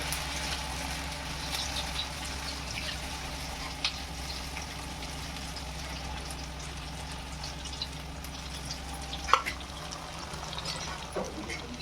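Drumstick leaf fritters dropped one by one into medium-hot oil, giving a steady, soft frying hiss throughout with a faint clink near the end.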